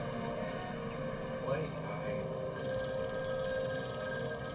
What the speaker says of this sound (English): Less than an hour after the kidnapping, the phone rang.